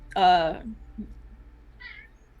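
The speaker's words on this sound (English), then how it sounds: "Yes, we can hear the cats." A cat gives one loud, clear meow, followed by a faint second meow a moment later, over a quiet background.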